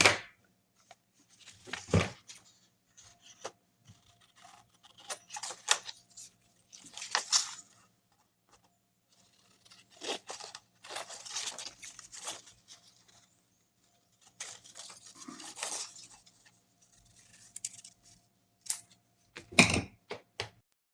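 Scissors cutting paper to shape a small upcycled envelope flap: close, quiet bursts of snipping and crisp paper rustle separated by pauses, no talking.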